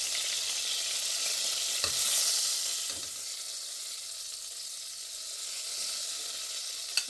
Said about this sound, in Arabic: دونك باش نخليهم يتقلاو وبعديك نقيموهم